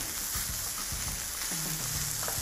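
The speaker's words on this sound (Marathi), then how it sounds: "तवा पुलाव करताना आपल्याला असा चरचर आवाज यायला पाहिजे छान।" Rice and vegetables fry on a hot tawa for tawa pulao, giving a continuous crackling sizzle with scattered pops and brief scraping stir sounds, close and steady.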